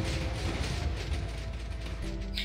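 A Minecraft redstone 3x3 glass door cycling open, a dense continuous whirr of clicking pistons and mechanism noise running steadily throughout, loud and close with no speech.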